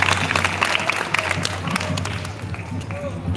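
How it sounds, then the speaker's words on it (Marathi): Applause for a prize winner at a joint school and Buddhist society anniversary event, a crowd clapping steadily with murmured voices and babble mixed in throughout. "जोरदार टाळ्या शुभमसाठी झाल्या पाहिजे"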